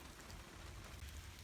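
Rain falls outdoors near a house and a trimmed pear tree, heard as a faint, even hiss of drops with no distinct individual hits and no talking.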